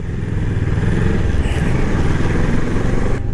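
A Kawasaki ER6N 650 motorcycle is ridden through road traffic, its engine droning loud and close throughout with steady rumble and wind noise, and no talk.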